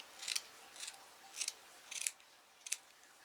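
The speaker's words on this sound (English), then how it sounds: "I should have got my bigger scissors." Scissors cut out a circle for a plant display: five short, crisp snips spaced about half a second apart, quiet and close, with no talking.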